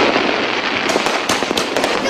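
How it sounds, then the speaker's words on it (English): Diwali fireworks bursting across Delhi during a festival night, a dense continuous crackle with several sharper bangs and pops standing out near the end, loud and close, with no talk. "How much money have you spent on the fireworks?"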